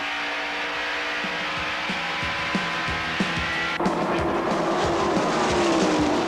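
Bill Elliott's race car braking hard into turn three, a steady engine drone with small knocks that shifts abruptly into a louder, rougher roar of engine and tyre noise partway through.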